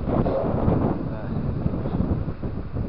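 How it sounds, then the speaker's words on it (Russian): A strong north wind on Lake Onega roars across the microphone in heavy, continuous gusts, loud and buffeting with low rumbling throughout. "Северяк задул и все."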